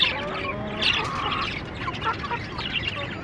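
Light Sussex and Brahma cross chickens, about four months old, on a rooftop poultry farm give scattered squawks and clucks over a steady background murmur, with some faint voices nearby.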